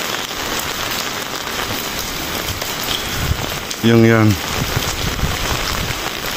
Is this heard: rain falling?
yes